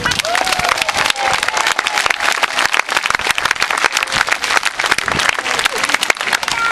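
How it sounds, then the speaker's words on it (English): A large outdoor crowd applauds and cheers loudly and continuously for volunteers loading a huge trebuchet, dense clapping with a few whistles over the top. "So can we please give them a big cheer now to drive them on?"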